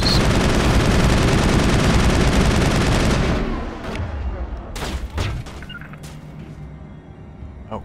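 Dense, loud rapid gunfire from a Mass Effect firefight fills the first three seconds, then it thins out into scattered single shots and impacts with quieter battle noise between them.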